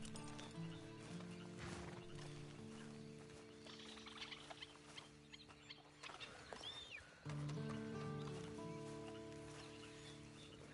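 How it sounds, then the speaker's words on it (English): Hollow clip-clopping horse hooves in Red Dead Redemption 2 patter steadily against a background of game music and ambient tones, with a faint whinny-like squeal partway through. "Then you better get on this horse."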